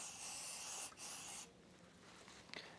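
Penetrating oil sprayed from a can onto corroded bolts on an RV steering stabilizer mount, a close, steady hiss that breaks off briefly and then continues more softly.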